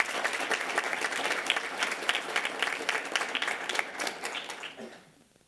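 An audience at a school board meeting breaks into lively, dense clapping that carries for several seconds before tapering off into quiet.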